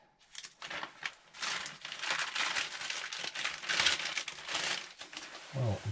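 A plastic bag being handled in a home workshop shed, giving sustained close crinkling and rustling through most of the clip, with a brief low thump near the end.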